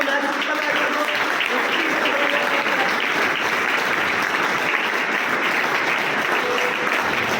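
Sustained applause from an audience at a motivational talk event, a steady dense wash of clapping throughout with a faint voice underneath.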